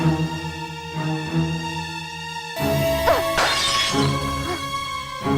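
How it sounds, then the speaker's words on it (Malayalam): A sudden crash of breaking objects cuts in, a brief burst of shattering over a steady background hum. "എന്തിനാ എല്ലാം ഇട്ട് ഇങ്ങനെ പൊട്ടിക്കുന്നത്?"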